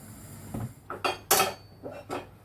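Metal pot lid clanks and rattles onto a cooking pot for a steak and ale pie, several sharp clinks spaced out over a couple of seconds, close and alone without talk.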